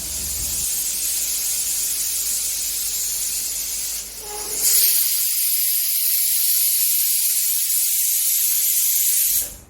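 A pressure cooker cooking curry lets out a loud, continuous high steam hiss, briefly dipping then surging again before cutting off at the end, close and without talk.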